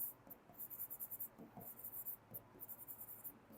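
A blue pen scratches across paper in quick, faint strokes with short pauses between words, close and quiet, during a Class 12 chemistry lesson.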